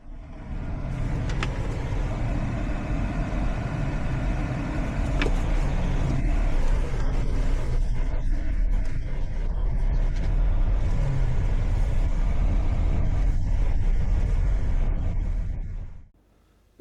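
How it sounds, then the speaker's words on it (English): A 2026 Hyundai Kona Hybrid rolls over a broken stretch of road, with steady, loud road and suspension rumble throughout and occasional sharp knocks, cutting off near the end. "Here is a quick run through a broken section of road."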